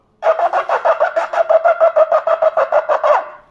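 A shofar sounds the truah, a rapid run of about a dozen short staccato blasts in quick succession, loud and close, ending with a brief tapering note.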